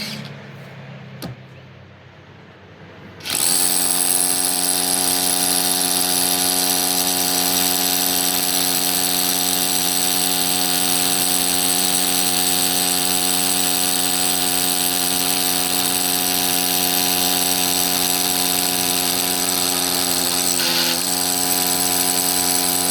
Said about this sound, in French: on va essayer de se percer ce petit mur embranché là